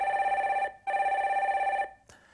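A telephone rings in two long electronic trills separated by a short pause as a radio phone-in call connects, clear and alone, ending with a faint click.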